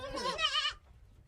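A goat on a farm lets out one short, wavering bleat, close and clear, which fades into quiet low background rumble.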